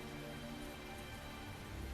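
Rain falling in the video game Tales of Zestiria, a steady faint patter on surfaces with no voices.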